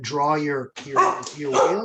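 A dog barks and yelps close by in a room, a few sharp, whiny bursts that overlap with someone speaking.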